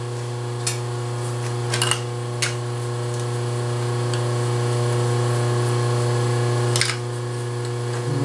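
A 7/32 drill bit boring holes in stack blocks, a steady motor hum running throughout with a few faint clicks and knocks over it, close and even.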